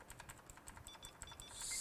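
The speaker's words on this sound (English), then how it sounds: "You guys like my clickety keyboard?" Quick clicky typing on a Razer BlackWidow Ultimate RGB mechanical keyboard, a rapid irregular run of sharp close key clicks, followed by a brief rising hiss at the end.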